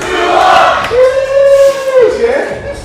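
Wrestling crowd at a NEBULA Wrestling championship match roars loudly and steadily, with a rising shouted cry carrying through the middle of the burst.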